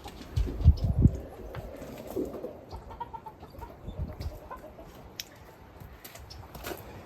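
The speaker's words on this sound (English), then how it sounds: "There's a hen in the box of eggs over here" A hen sitting in a box of eggs indoors clucks a few low, throaty times early on, then settles into quieter rustling and shuffling nearby.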